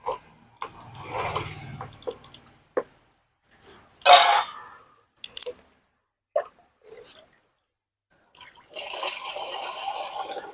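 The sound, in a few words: pouring liquid organic fertilizer into a sprayer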